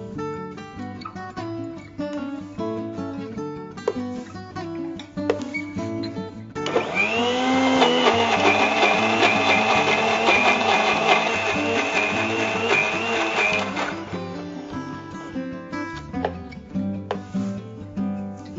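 Mixer grinder grinding a carrot and onion chutney, a steady loud whirring drone of about seven seconds that rises suddenly and then stops, set among quieter kitchen clatter and music, with no talking.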